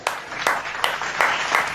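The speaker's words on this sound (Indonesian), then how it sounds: "tepuk tangan." A church congregation claps hands in a slow, steady rhythm, about five distinct sharp claps spaced roughly a third of a second apart, close and moderately loud.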